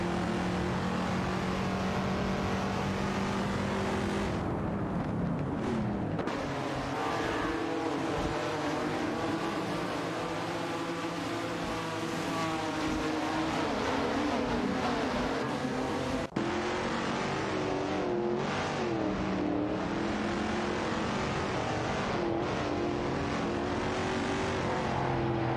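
Engines of race cars in a racing video game, including a 1970 Plymouth Superbird and a 1969 Dodge Charger Daytona, roar continuously and loudly with shifting revs throughout.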